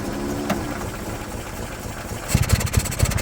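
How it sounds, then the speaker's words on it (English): A 1967 MGB GT engine idles with a low rumble, then revs up in a few quick bursts toward the end. "That, ladies and gentlemen, is a running engine."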